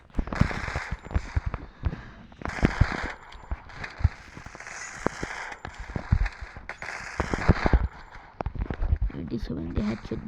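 Gunfire in a shooting video game, rapid bursts of sharp shots and footstep-like clatter running throughout, fairly quiet under continual talk.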